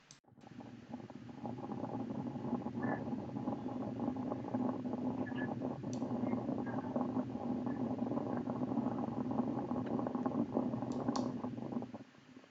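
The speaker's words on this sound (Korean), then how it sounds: "여기에서 막 부글부글부글 나오는 거 보이시죠?" A coffee maker brewing, coffee bubbling and gurgling up through a glass chamber in a steady, continuous low rumble with faint clicks, close and alone.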